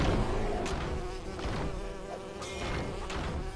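A cartoon bee buzzes in a video game animation: a steady, faint insect drone layered over continuous game music and effects, with a few brief accents.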